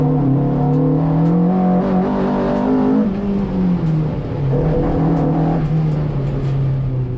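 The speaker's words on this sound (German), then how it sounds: "Die Weber-Vergaser, die brüllen dir einfach ins Gesicht." A VW Golf 1 Group H widebody with Weber carburetors and a Supersprint exhaust revs loudly and close up, its engine note rising and falling in a continuous, throaty roar with no talking.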